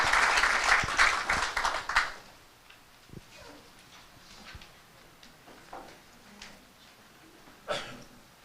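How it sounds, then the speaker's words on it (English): Short burst of applause for a doctor after his talk on wound management at a home health care event, loud for about two seconds, then fading into scattered faint claps and quiet room noise. "Please give a round of applause for Dr. Ahmed Tulba"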